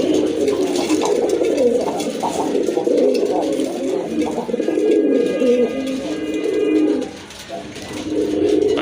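Pigeons coo steadily in a loft of breeding pairs being sold with eggs and chicks, several birds overlapping in a continuous, fairly close murmur with a brief dip near the end.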